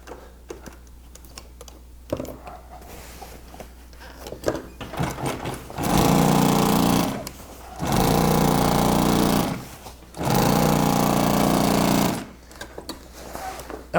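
A sewing machine stitches a Bimini top boot in three loud, sustained runs of a second or two each, separated by short pauses with faint handling clicks and rustles.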